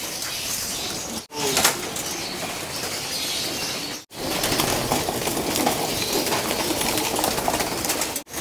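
Pigeons feed in a loft after being given breeder mix, making a continuous dense rustle of pecking and shuffling with bursts of wing flapping and faint cooing, close and busy.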